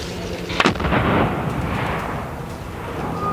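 The Schwerer Gustav railway gun, the largest caliber rifled weapon ever built, fires with one loud, sharp blast followed by a long, heavy rumble that slowly fades.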